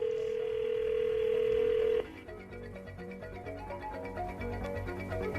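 A telephone call's dial tone holds steady and clear for about two seconds, then cuts off into a quieter, busier stretch of faint tones.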